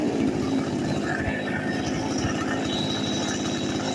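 A repaired Chinese chainsaw engine idles steadily and close by, a continuous low, rough putter with a buzzy edge that holds even throughout without revving.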